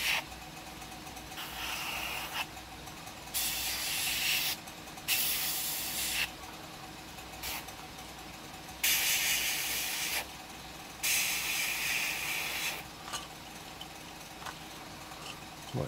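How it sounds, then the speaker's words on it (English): Aerosol spray paint hissing in repeated bursts of one to two seconds with short pauses between, close and fairly loud, as olive and duck egg green paint goes onto a model. "Might spray a little bit in there a bit more."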